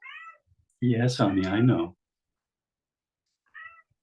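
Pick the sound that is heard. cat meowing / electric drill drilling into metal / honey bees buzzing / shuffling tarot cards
cat meowing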